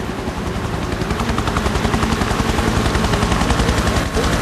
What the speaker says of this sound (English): Rescue chopper.